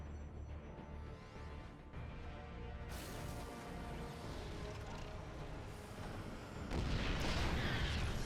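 Siege tanks fire in a StarCraft 2 match, a dense, continuous rumble of booming shots layered with battle noise that swells into a louder burst near the end.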